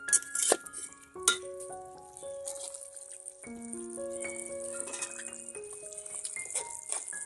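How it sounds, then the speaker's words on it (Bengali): Egg and lentil khichdi ingredients being sautéed in a pan: a soft steady sizzle under clinks and scrapes of a spoon against the pan, with a few sharper knocks near the start, close and fairly quiet, no talking. "এখন হালকা করে কষানো হবে।"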